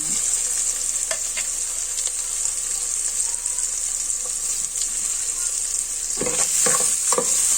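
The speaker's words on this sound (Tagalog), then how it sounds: "Lagay na natin ang sibuyas at bawang." Onion and garlic sauté in butter for pork dinuguan, making a loud, steady sizzle that runs throughout, with a few utensil knocks and stirring clatters toward the end and no voices.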